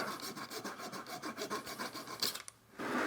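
A saw cuts through wood during a mortise repair, rubbing sawdust into wet glue in the joint: close, steady rhythmic rasping strokes that pause briefly near the end before resuming.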